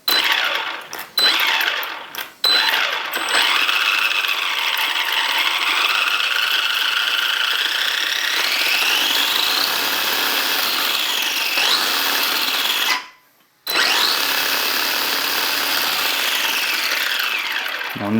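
A Hobbytech DB8SL radio-controlled car's electric motor whines loudly and rises in pitch as it accelerates, holding a high sustained scream with a couple of brief cutoffs and no talking.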